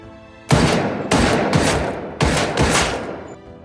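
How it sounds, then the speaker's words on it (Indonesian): A film scene where dozens of bullets are fired at someone in an office, heard as several loud, rapid bursts of gunfire with brief gaps between them. "Boksun langsung dijejar oleh puluhan peluru."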